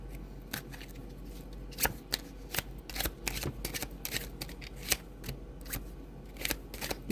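Slippery oracle cards being shuffled by hand, a flurry of quick riffling slaps and flicks in uneven bursts, close and moderately quiet, with no talking.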